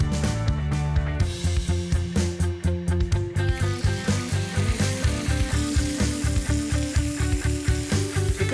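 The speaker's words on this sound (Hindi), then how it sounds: "अब ये चिकन ब्रेस्ट को हम अच्छे से करेंगे मैरिनेट और उसे एक पैन में हल्के से ऑयल के साथ पका दिया जाएगा।" Marinated chicken breast frying in a pan with a little oil for chicken fried rice, a loud close sizzle broken by a regular pulsing rhythm of stirring or scraping, with no speech.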